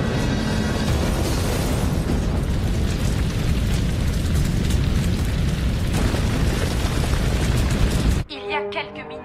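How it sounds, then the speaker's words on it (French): A massive gas explosion in a quiet residential neighborhood in Queens roars as a dense, sustained rumbling blast over several seconds, then cuts off sharply to quieter sound. "une énorme explosion de gaz a transformé un tranquille quartier du Queens en une gigantesque boule de feu"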